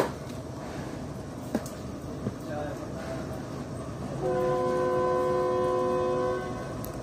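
The Tezgam Express pulls toward platform 4 behind a GE U40 locomotive; a low rail rumble builds before the horn blares loud and sustained for about two seconds.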